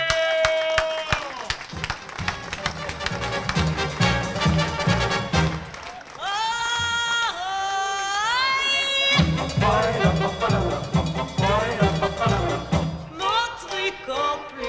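A concert audience at a country music songwriters' awards gala claps and cheers, a loud sustained wash of applause and shouts mixed with music and voices.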